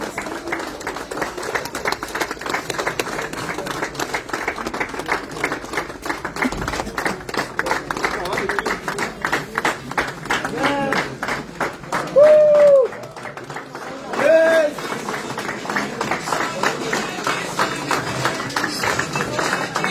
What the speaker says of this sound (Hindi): दोस्तों तालियों की गड़गड़ाहट और तेज होनी चाहिए